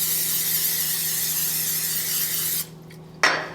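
Cooking spray hisses steadily onto a donut pan in a kitchen in one long, loud, close burst, stops briefly, then a short second spray follows, with no talking.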